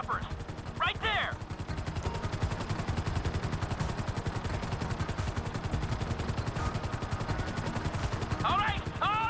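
Helicopter rotors thump steadily in GTA 5 while rapid automatic gunfire rattles through the attack, sustained and loud throughout, with a few brief voice shouts near the start and end.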